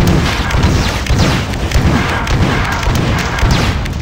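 Shotgun blasts from the first-person shooter game Marathon 2 Durandal, dense repeated booming shots and impacts filling the whole stretch loudly with no pauses.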